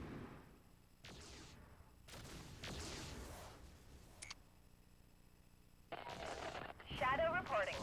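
Mech weapons fire in MechCommander 2 arrives as several separate sharp bursts and crackling volleys across the battlefield, with quiet gaps between them and a metallic warble at the end.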